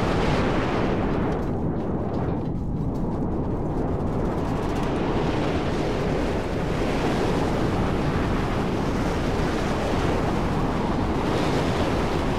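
Loud, roaring storm wind in the Mad Max video game, a dense continuous rush like surf, with a few brief louder surges and no speech over it.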